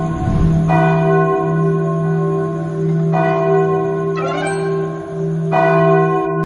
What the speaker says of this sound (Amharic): ለዓመታት ያክል የተቀመጠው ደውል በዚህ ፓርክ ውስጥ መጮህ ጀምሯል